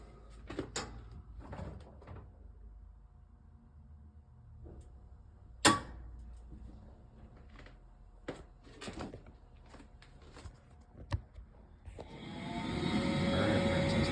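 After a repair, a home HVAC heating system clicks a few times, then its blower kicks on with a steady, fairly loud rushing hum that continues to the end.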